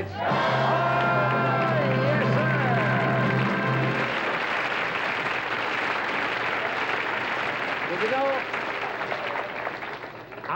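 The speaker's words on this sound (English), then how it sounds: "Let's give a rousing cheer!" Studio audience of children cheering and shouting loudly on a live TV set, a sustained roar of voices with whoops and yells throughout, some applause mixed in, and a host's voice calling out over the crowd at the start.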